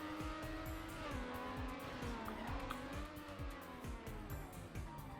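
Car in the racing video game Trackmania accelerating hard, a continuous high-revving engine whine that rises and dips with gear changes, with tire noise and rapid rhythmic ticks throughout.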